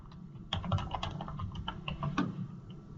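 Someone types a password on a computer keyboard: a quick, uneven run of close, crisp keystrokes with no talking.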